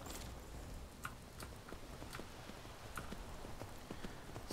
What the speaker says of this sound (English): Let's ride the horse.